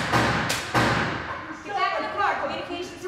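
Gunshots fired during a police encounter on a street in Camden, New Jersey: two sharp, loud bangs in quick succession near the start, followed by ongoing voices and street noise.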